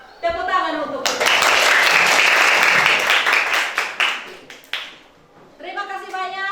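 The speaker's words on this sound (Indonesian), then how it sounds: "Tepuk tangan untuk kita." Children in a classroom lesson break into loud group applause for a few seconds, a dense wash of clapping that thins into scattered claps, with voices speaking before and after.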